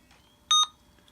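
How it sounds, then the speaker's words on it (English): A single short electronic beep from an IBM ThinkPad T41 laptop going to sleep, clear and close, standing alone against near silence. "there's the beep that ThinkPads do when they go to sleep"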